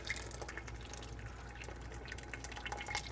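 Water drains from boiled rice for a veg dum biryani, a faint, soft trickle and patter of dripping liquid with no talking.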